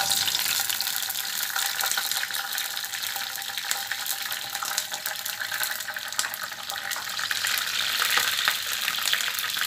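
Washed dried red chillies fry in hot oil, producing a dense, continuous crackling sizzle that stays close and fairly loud throughout.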